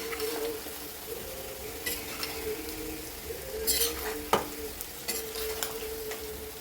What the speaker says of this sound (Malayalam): ഫ്ലെയിം കുറച്ച് വെച്ച് വഴറ്റണം.